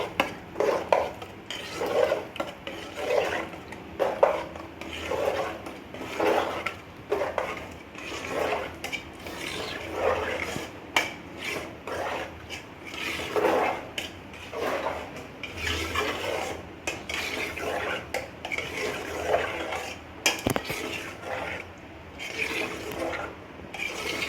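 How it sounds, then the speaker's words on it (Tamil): Ragi flour porridge is stirred in a pot, giving a steady run of scraping and thick sloshing with frequent utensil clinks against the metal, close and continuous without talk. "அந்த மாவு கையில் வச்சு நம்ம அது வேகிற வரைக்கும் நம்ம கொஞ்சம் கைவிடாமல் கிண்டணுங்க"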